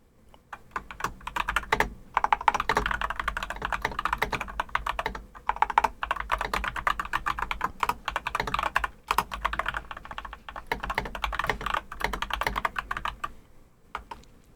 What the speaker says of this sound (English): are you typing at me on Discord for keyboard noises?